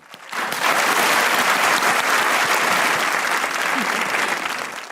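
A studio audience at a comedy show breaks into applause, swelling quickly from quiet into dense, loud, close clapping that holds steady for several seconds.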